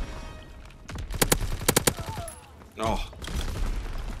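Sten submachine gun fire in Call of Duty WW2, heard as several sharp close bursts of rapid shots over busy game noise, with a player briefly talking.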